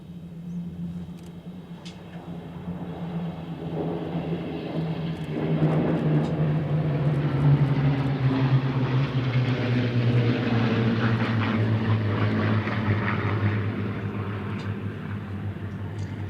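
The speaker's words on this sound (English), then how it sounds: "And from the left, here is the Spitfire Overture." A formation of Supermarine Spitfires passes over the airfield at the Flying Legends airshow at Duxford, a deep propeller-engine drone swelling as the planes approach and holding loud overhead before slowly fading, no voices heard.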